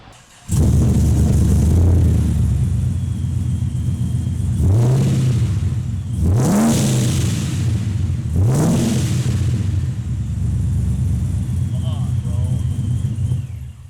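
A car engine fitted with Borla XR1 aftermarket exhaust idles with a deep rumble, then revs sharply three times in quick bursts through a loud, raspy exhaust, settling back to idle between each.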